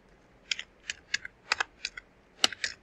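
Light clicking keystrokes on a computer keyboard while entering a company name, about eight separate taps in an uneven rhythm, close and fairly soft with no talking.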